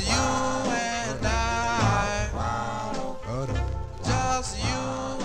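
A late 1953 doo-wop vocal group record, released on Combo Records out of Los Angeles, plays continuously with harmonized sung vocals over a full, steady band backing.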